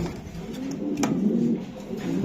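A racing pigeon, a female club racer, coos softly in a low continuous murmur, with brief faint chirps and rustling mixed in at close range.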